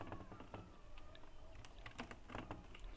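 Fingers type a profile tagline on a computer keyboard, a quiet, close patter of irregular key clicks with a few sharper strikes and no talking.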